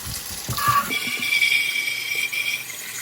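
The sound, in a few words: rinsing engine part under running tap water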